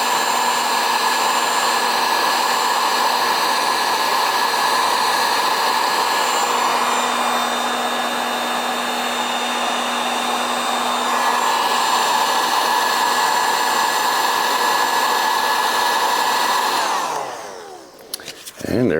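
A heat gun blows a loud, steady whirring roar while shrinking heat-shrink tubing over car stereo wiring for a 1999–2004 Jeep Grand Cherokee, running continuously before cutting off near the end.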